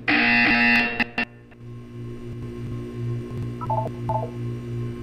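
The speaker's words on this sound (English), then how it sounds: "You will hear a buzzer, but when you hear the buzzer," Buzzer in the Portal 2 video game: a loud electronic tone sounds for about a second, cuts out, then gives a brief final burst, followed by a steady mechanical hum and a few faint beeping tones.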